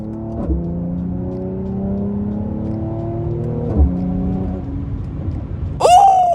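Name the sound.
car accelerating after paddle downshift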